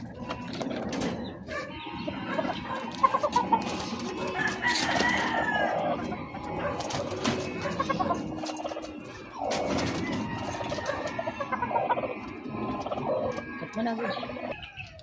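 Tornado Hatch gamefowl, a breeding cross with SPR hens, cluck and call steadily in a farmyard, with crowing-like bursts and other fowl noises mixed through the din.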